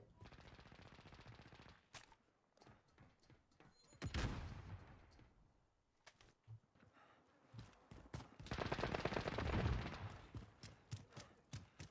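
Bursts of rapid gunfire crackle in Call of Duty: Modern Warfare (2019) multiplayer, with sharp isolated shots and two longer, louder volleys, no talking.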